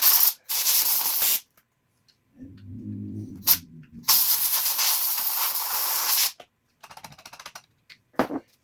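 Compressed air blasts grime out of small metal parts from a 1982 Gibson Flying V guitar, several loud close hissing bursts of varying length with short pauses and a brief low rattle between them.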